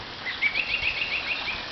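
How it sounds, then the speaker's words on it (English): A bird in a backyard garden in May gives a quick series of thin, high chirps, faint and steady over a soft outdoor background hiss. "Oh, listen to that bird."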